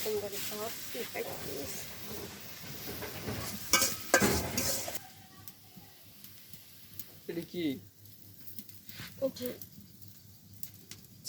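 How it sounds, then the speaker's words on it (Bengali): Onions frying in a pan for pumpkin curry, a low sizzle broken by stirring scrapes and clatter, with voices talking at times. "কুমড়া ভাজি করার জন্য আগে পেঁয়াজটা ভেজে নেব"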